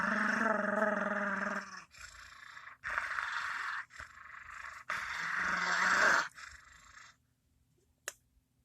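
A person imitates a dog growl with their voice, making several rough, throaty bursts of about a second each, separated by short pauses, close and fairly loud, then falling quiet.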